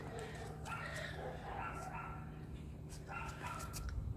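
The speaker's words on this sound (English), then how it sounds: "Of course, there's gonna be a screaming dog when I'm filming." A dog barks and yips in the background during an indoor try-on of plastic comfort shoes, with faint repeated high yelps scattered across the moment and a low steady room hum underneath.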